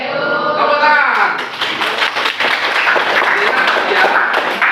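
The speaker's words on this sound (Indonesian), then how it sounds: "Tepuk tangan." Students in a Grade 7 school classroom break into a short burst of close, lively hand clapping, with voices audible beneath the applause.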